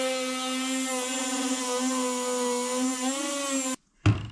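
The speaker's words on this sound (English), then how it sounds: "I'm going to do a little bit of sanding" A power sander works a wooden end-grain cutting board with a steady, close motor whine that cuts off abruptly near the end, followed by a brief clunk.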